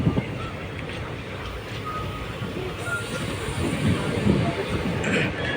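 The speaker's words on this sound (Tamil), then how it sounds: "இன்ஜின் அப்படியே புட்டு புட்டு புட்டு புட்டுன்னு புகை தள்ளிட்டு வருது" Passenger train on the Madurai to Rameshwaram line rumbling along steadily, a continuous rolling clatter of wheels and engine with no distinct chugging beats, close and moderately loud throughout.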